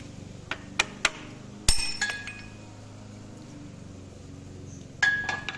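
Several sharp metallic taps from a small hammer on a Land Rover Freelander, a quick few at first then a louder strike and more after a pause, ringing briefly against a low background hum.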